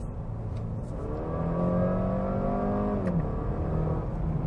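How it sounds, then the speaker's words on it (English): Audi A5 Sportback g-tron, a 2018 S-line model, accelerating in third gear from about 60 to 80, engine note rising steadily and then easing off, heard from inside the cabin with no talking. "Let's see if I just do some mid-term sprint, like a third gear from 60 to 80"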